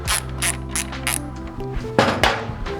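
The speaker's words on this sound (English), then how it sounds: "I'm going to take our ratchet, our Torx bit, and the extension" A ratchet fitted with a Torx bit clicks in quick repeated strokes while loosening a bolt on a Triumph Tiger 900 motorcycle, followed by a couple of heavier metallic clunks near the end.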